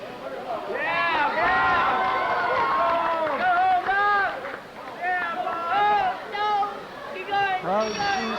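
Crowd noise and chatter from spectators at an MIT 6.270 autonomous LEGO robot design competition, a steady murmur of many voices with individual shouts rising over it throughout.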